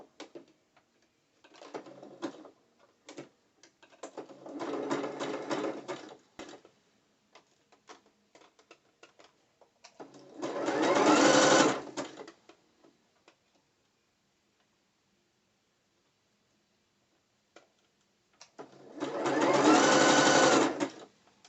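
A sewing machine zigzag-stitches bikini fabric in three separate runs of fast, close rhythmic ticking, each lasting a few seconds, with quiet pauses and light handling clicks between.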